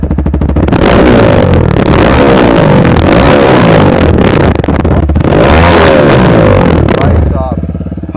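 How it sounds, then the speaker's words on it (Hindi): TVS Raider 125 motorcycle with a modified exhaust revved hard up close, a loud continuous roar with throttle blips rising and falling over about seven seconds before easing off. "तो भाई अब एक बार यहाँ पे इसका एग्जॉस्ट चेकआउट करते हैं।"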